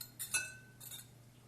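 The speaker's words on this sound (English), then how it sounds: "3 eggs, 3 large eggs goes in this" Three large eggs going into a mixing bowl, heard as a couple of quick faint glassy clinks and taps close by, then a softer knock, with no talk.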